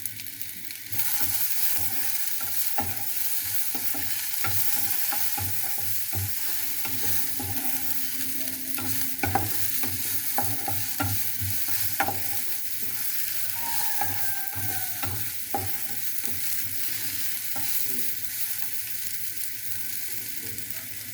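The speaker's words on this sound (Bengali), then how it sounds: "সিমটা আমার সিদ্ধ হয়ে গিয়েছে আর ভাজা ভাজাও হয়ে গেছে" Flat beans sizzle in a pan as they are stirred, giving a steady frying hiss broken by repeated scraping and clattering strokes, close and fairly quiet, with no talking.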